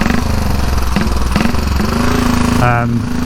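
A 1934 Velocette KTT race motorcycle's single-cylinder engine barks loudly and continuously while riding on the road. Its pitch steps down as the rider shifts down to second gear near the end.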